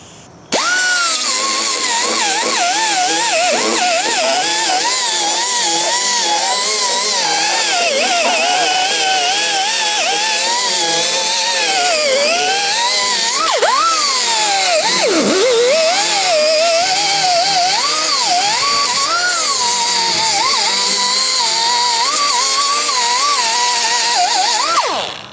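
A handheld power tool runs continuously with a rough, wavering whine, working sandpaper into a groove while reconstructing the top corner of a Ford F100 truck bed; loud and close throughout, without speech.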